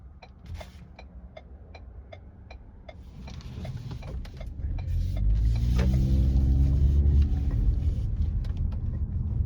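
A car making a left turn gives off a low engine rumble that builds and grows steadily louder, with a regular ticking, like a turn signal, clicking throughout.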